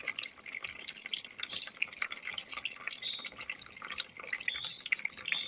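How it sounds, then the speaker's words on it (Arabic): Water drained off soaked turnip pieces for pickling, a quiet steady stream of drips and trickling splashes close by, with no talking. "راح نفضي كل المي بعد ما عبيناها."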